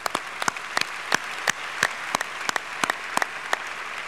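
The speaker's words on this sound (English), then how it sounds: "We should applaud that." Sparse, scattered clapping from a small audience at a talk about community service, with distinct individual claps spaced irregularly over a few seconds and no voices.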